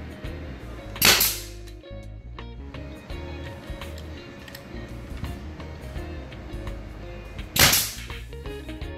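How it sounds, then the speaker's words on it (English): A DeWalt air-powered nail gun fires twice during a living room remodel, two sharp loud cracks several seconds apart over quiet room noise. "end up getting a DeWalt air-powered nail gun. This is the first nail gun I've ever had, so we'll see how this goes"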